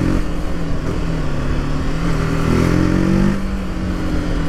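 A TVS RTR 310 motorcycle with a 312cc engine revs loudly and close by, a raspy, steady engine note that climbs in a brief surge midway before settling back.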